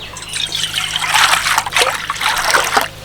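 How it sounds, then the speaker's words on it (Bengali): Water poured into a bowl, a steady trickling splash that swells and ebbs in a few surges, close and fairly loud with no one talking, as lime water is prepared for raw mango morabba. "একটা পাত্রের মধ্যে কিছুটা জল নেব"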